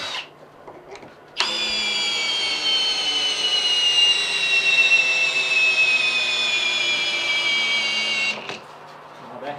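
A power driver sends a heavy screw into a wooden nogging between beams of a post and beam garage, whining steadily for about seven seconds, loud and close, with a quiet start and finish.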